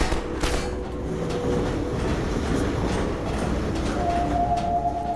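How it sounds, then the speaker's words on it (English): A train approaches in the video game Half-Life 2, a steady rumble and clatter of rail cars with brief high wheel squeals, loud and continuous. "I hear another train coming."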